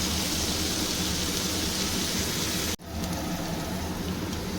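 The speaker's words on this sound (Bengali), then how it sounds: "তেলের মধ্যে আমি একটু আলুটা ছেড়ে দিয়েছি এবার নুন দিয়ে দিলাম আলুটা একটু লাল করে ভাজবো" Potatoes salted and frying in hot oil in a pan, a steady dense sizzle and crackle like rain that runs throughout, broken by one sharp brief dip partway through.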